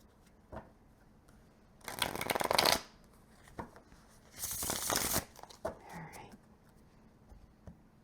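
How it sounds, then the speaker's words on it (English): Tarot cards being shuffled in two brisk riffling bursts, close and crisp, separated by a short pause with a few soft handling taps. "one more shuffle here"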